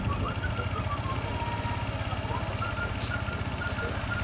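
A Honda ADV160 scooter engine runs at a steady, close idle after an overhaul, with an even low thrum throughout.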